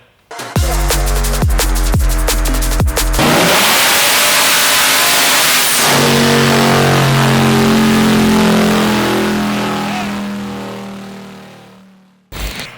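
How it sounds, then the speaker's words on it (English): Godzilla-swapped two-door Chevrolet Tahoe on a dyno: loud close engine with a few sharp blips, then a long hard full-throttle pull that rises in pitch, then backs off and winds down, with a brief roar at the very end. "We are gonna get this damn thing on the dyno so we can figure out how much power it makes"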